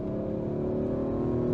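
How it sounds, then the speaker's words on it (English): Audi RS5 Sportback accelerating, its engine and exhaust giving a steady, smooth droning hum that rises slightly in loudness, heard from inside the car with no talking. "We do hear exhaust."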